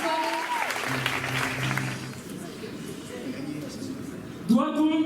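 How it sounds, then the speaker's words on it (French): Audience applause at a French live show or cabaret evening, a broad steady clapping wash through most of the clip with voices and tonal sounds over it, and a voice speaking briefly near the end. "je vous demande un maximum d'applaudissements"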